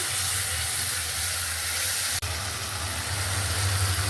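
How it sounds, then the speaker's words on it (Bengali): Ginger and onion paste frying with salt in a pan, a steady close hiss and sizzle over a low hum, broken once midway by a brief click. "ভাজা ভাজা করে নেই"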